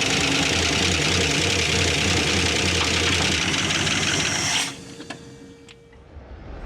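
Engine of a 1970 Dodge Charger, revived after sitting twenty years, running rough with one dead cylinder, a loud close uneven chugging that cuts off abruptly, leaving faint clicks and ticking.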